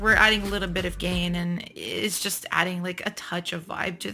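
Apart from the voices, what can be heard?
None of the usual background noises is heard.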